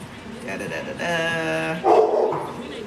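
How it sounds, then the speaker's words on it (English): A dog barks and yips a few times in short bursts, fairly close, with some sustained tonal sound and background noise around it. "What's he barking at?"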